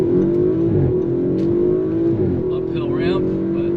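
A 2019 Audi RS5 Sportback accelerates up a ramp onto the highway, its engine droning loud and steady from inside the cabin with a slight rise in pitch as it pulls.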